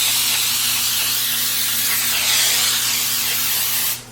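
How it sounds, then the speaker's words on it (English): Cooking spray hisses onto a baking sheet in one long, close, loud continuous spray that stops abruptly at the end. "so we are ready to spray our baking sheet"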